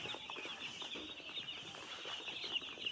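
Healthy broiler chicks in a brooder, eating broiler starter feed, make continuous faint, high peeping and soft clucking, with no talk.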